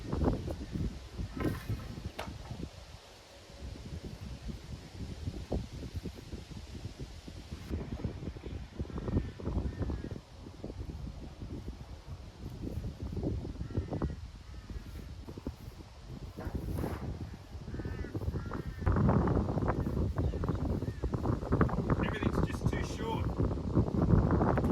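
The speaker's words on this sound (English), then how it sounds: "Nice cold windy day." Steady cold wind buffets the microphone outdoors, a low roaring rumble that swells and grows stronger toward the end, with a voice speaking now and then.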